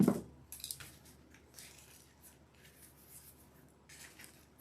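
Scissors snip craft material while a fall pumpkin swag is being made, with a sharp cut at the start and then several quieter clips and rustles, close and with no talking.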